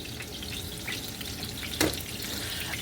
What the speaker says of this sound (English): cook this blackberry sugar butter mixture until the blackberries start to break down and thicken